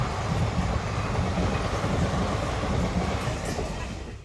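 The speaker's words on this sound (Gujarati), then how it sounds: "પેસેન્જર ગાડી છે." A passenger train passes close by at a railway crossing, a loud steady rumble with rhythmic wheel clatter that eases slightly toward the end.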